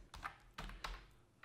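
Keys on a computer keyboard tapped in a few short bursts, close and fairly quiet, with soft thumps between.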